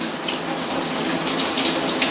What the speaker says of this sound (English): I need to test this shower because I finally caulked it all